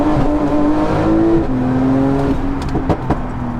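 An 1100-horsepower supercar accelerates hard back on the throttle, its engine note climbing in stepped gear pulls, loud and close, with a brief crackle near the end.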